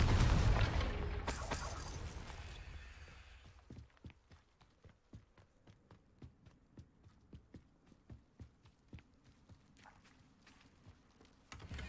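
Confringo fire spell explosion from Hogwarts Legacy, a loud broadband blast with a long decaying rumble over the first few seconds, followed by a steady run of light rhythmic footsteps.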